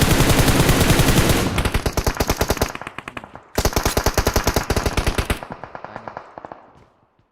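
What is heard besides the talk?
gunfire in the video game PUBG Mobile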